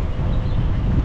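Strong headwind buffets a microphone on a bicycle ride downhill through an Alpine valley from Nauders toward Kastelbell, a loud, continuous low rumbling roar with no voices.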